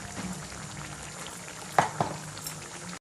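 Curry boils in a pot, a soft continuous bubbling simmer heard up close, broken by two brief clinks near the end.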